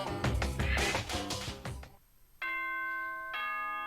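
The Danganronpa announcement chime sounds as two bright, sustained bell-like tones, the second a step apart from the first, ringing clearly after a burst of busy game music fades into a short silence.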